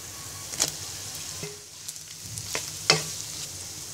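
Onion and boiled chicken frying in a pan for a Bangladeshi chicken soup, a soft steady sizzle broken by a few spatula scrapes and knocks against the pan, close and fairly quiet.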